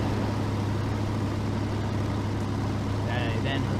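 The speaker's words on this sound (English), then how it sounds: "And that's the main engine sound." Steady, low kart engine drone from the video game Chaos Kart, holding an even pitch throughout with a faint higher chirp near the end.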